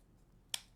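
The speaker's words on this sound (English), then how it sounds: "Dovetail, and I finally have sharp scissors" Sharp scissors make a single crisp snip through a ribbon end to cut a dovetail, short and close against a quiet room.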